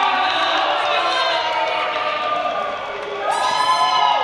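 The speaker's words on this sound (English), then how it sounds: "Loudest cheer in the crowd" A crowd at a table tennis match cheering and shouting loudly in a sustained, dense roar, with a higher burst of whoops near the end.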